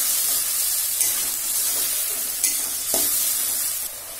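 Ground spice paste sizzles loudly in a hot pan over medium gas, a steady dense hiss heard up close with a few soft stirring scrapes and no voices.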